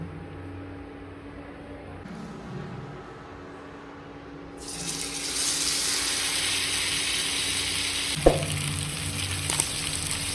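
Skinned, cut sea fish frying in slightly too much oil on a tawa, a steady loud sizzle that swells partway through, with a brief sharp clink near the end.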